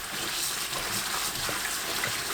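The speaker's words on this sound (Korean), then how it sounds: "꽈리고추를 씻어주세요." Shishito peppers are washed in water, a steady close hiss of running and splashing water lasting a couple of seconds.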